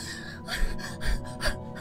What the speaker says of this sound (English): Why is she panting?